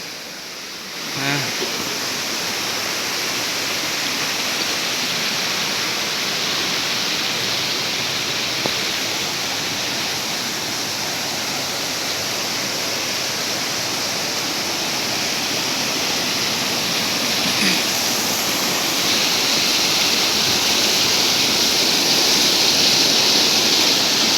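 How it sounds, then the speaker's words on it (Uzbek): Steady broadband rush of the Xo'ja Paymon waterfall beneath a bridge, loud and continuous throughout, swelling slightly toward the end with no talk over it. "Bu ham bitta sharshara."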